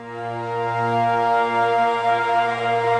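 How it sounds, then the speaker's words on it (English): A sustained woodwind tone holds steady with a gentle wavering flutter, full and continuous for a few seconds. "This fluttering woodwind."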